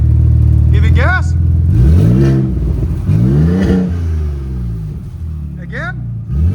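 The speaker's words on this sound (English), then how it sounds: "Give it gas." A Ford Raptor with a Flowmaster Super 50 exhaust revved several times in quick succession, each loud rising roar falling back to a rumbling idle, with voices talking over it now and then.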